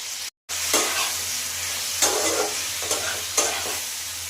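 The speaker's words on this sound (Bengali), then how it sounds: "ভেন্ডিটা তেলের উপরে দিয়ে ভেজে নিচ্ছি। হালকা করে ভেজে নিয়ে চিলি সসটা দিচ্ছি হালকা করে।" Okra fries in oil with a splash of chili sauce, giving a continuous close sizzle. A few spatula stirs scrape through it, and the sound cuts out briefly near the start.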